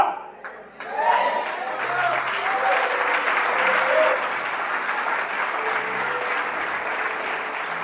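A church congregation applauds during a Spanish-language sermon. Steady, dense clapping swells in after a brief pause and carries on to the end, with some voices mixed into the crowd.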